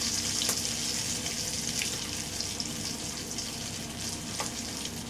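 Macarona fish coated in chili masala fries in hot oil, giving a continuous close hiss with scattered crackles and pops.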